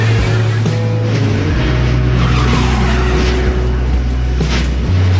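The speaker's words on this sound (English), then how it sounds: "Earnhardt Jr.'s car who comes to rest against the outside wall" A race car skids and crashes into the outside wall at the start of a race with several cars tangled, a loud continuous engine drone with scraping and tire noise filling the track mix.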